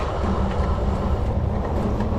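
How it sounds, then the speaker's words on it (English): A steady low rumble and rolling clatter of a train passing close by, continuous and loud throughout. "there's still a substantial amount of train traffic"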